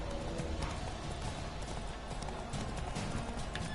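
Hooves of the horse Roach gallop in The Witcher 3 game in a steady, rapid clip-clop rhythm, moderately quiet under a faint ambient game backdrop, with no talk.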